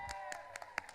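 Scattered, faint clapping from a small group applauding a girl named Claire, a handful of distinct claps spaced out over a second with a steady tone humming underneath.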